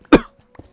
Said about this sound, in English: Can I, like, stop coughing so much?